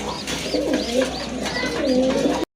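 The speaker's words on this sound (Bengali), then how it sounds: "এইখানে দেখতে পাচ্ছেন তিন পিস কবুতর রয়েছে বুটঠোটের কাগজি কবুতর" Several boot-beaked Kagoji pigeons kept for sale coo close by in soft, repeated rolling calls that overlap one another throughout.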